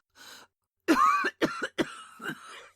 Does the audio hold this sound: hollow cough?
yes